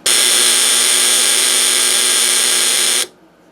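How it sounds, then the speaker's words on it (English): A steady, harsh electronic buzz from an Elenco Snap Circuits buzzer sounds loudly for about three seconds, then cuts off abruptly into near silence. "it makes it sound like a buzzer instead"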